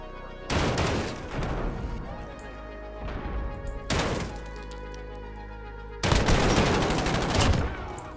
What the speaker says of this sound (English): This shotgun is actually really fun to use